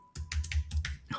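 Computer keyboard being typed on during a Photoshop design session, a quick run of about six clicky keystrokes in an even rhythm, close and fairly quiet, with no talking.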